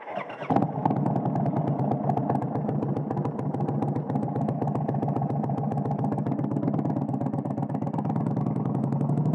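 A motorcycle starts up and runs steadily close by, its engine clattering and droning with a constant rhythmic pulse for the whole stretch, with no talking.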